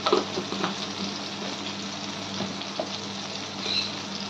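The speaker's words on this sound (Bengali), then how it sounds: "ভালো করে টমেটো যতক্ষণ মজবে ততক্ষণ আমরা এটাকে কষিয়ে নেব" Tomatoes sautéing in a pan for begun bharta, a steady low sizzle and frying crackle with occasional stirring scrapes, continuous and moderately close.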